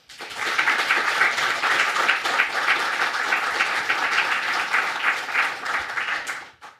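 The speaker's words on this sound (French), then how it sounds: "Je vous invite à applaudir Laurent Sélinder." A studio audience breaks into sustained applause, dense clapping that swells quickly, holds steady for several seconds and then fades out.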